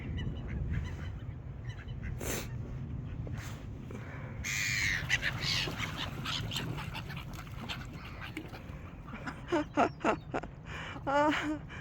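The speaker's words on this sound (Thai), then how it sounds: "มาแล้วนกนางนวลมาแล้วค่ะทุกคน" Seagulls call out near a bridge where ducks gather, with loud, harsh squawks in short bursts, a cluster of repeated cries toward the end, over low outdoor rumble.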